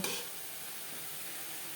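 Bathua greens being stirred and dry-fried in a pan, giving a steady close sizzle with a brief scrape of stirring at the start, no voices.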